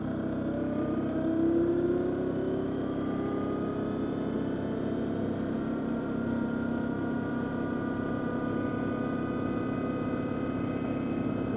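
Arctic Cat Diesel 700 side-by-side cruising on pavement around 35 mph, a steady droning engine hum with a slowly rising pitch, close and continuous with no pauses.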